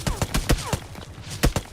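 Gunfire in the mobile shooter BGMI cracks in quick, loud, evenly spaced shots, a burst of several followed by a short pause and two more shots.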